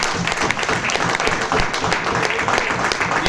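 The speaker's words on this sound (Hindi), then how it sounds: "एक तालियां बजा सकते हो" Applause at a business networking meeting, a burst of close, dense clapping from a roomful of people lasting throughout.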